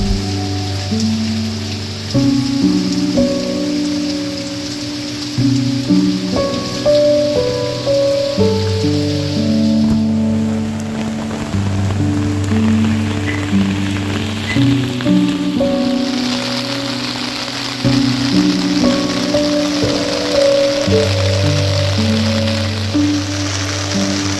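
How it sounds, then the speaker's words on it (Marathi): Heavy monsoon rain pours steadily in Devgad, Konkan, a dense continuous hiss of downpour on surfaces, with music playing over it throughout and no talk. "आजचे हे 2 दिवस म्हणजे पूर्ण दिवस आणि रात्र अक्षरशः पावसाने धुमाकूळ घातला आहे."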